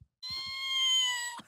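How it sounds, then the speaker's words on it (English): A toy cat meow sound machine gives one drawn-out electronic meow, tonal and wavering, after a few soft knocks and clicks; close and fairly loud with no talking. "What if a cat meow machine!"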